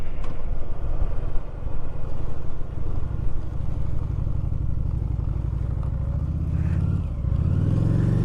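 Honda Shadow 750 motorcycle on an early morning ride, its engine droning steadily with wind rush close by, then dropping and rising again as the rider shifts and accelerates near the end.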